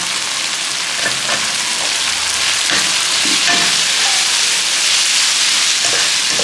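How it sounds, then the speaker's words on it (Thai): Eggplant stir-frying in a pan of spicy pork head curry paste, a steady loud sizzle with occasional scraping stir strokes throughout, no talking. "ผัดให้มะเขือสุกนะครับ"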